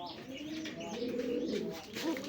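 Native and Raj Golla pigeons coo close by in soft, rolling, throaty calls that rise and fall over a couple of seconds, with no talk over them.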